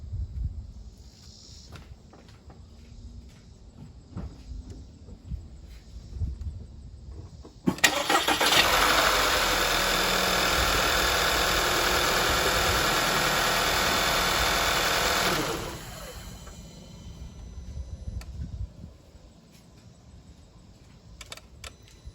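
A car engine cranks and catches abruptly, then settles into a steady, loud idle for several seconds before cutting off, leaving quiet background noise.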